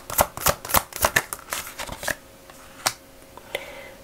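Plant oracle cards being shuffled by hand: a quick run of crisp riffling snaps and slaps, then a few slower, scattered card taps, close and fairly loud.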